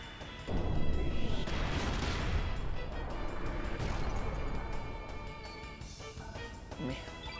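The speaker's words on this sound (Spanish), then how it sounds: "Y aquí la explosión pétrea." A rock explosion spell, Explosión pétrea, going off in the video game Chrono Cross: a sudden heavy crashing blast followed by rumbling, crackling debris and a second surge, loud and close, with some speech mixed in.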